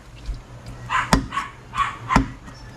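A dog barks twice, sharp, fairly close bursts about a second apart, with quieter yips and rustling in between against a low background hum.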